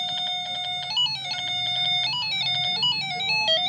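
A ringtone tune plays on a phone as a bright, beeping electronic melody. Its quick stepping notes loop steadily at an even volume with no voice over it.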